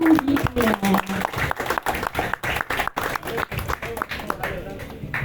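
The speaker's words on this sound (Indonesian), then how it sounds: "Boleh kita memberikan tepuk tangan yang meriah untuk Mas Heru Gita." An audience at a talk on visual culture in Bandung applauds speaker Mas Heru Gita with rhythmic, uneven clapping mixed with a speaking voice at the start, tapering to scattered claps near the end.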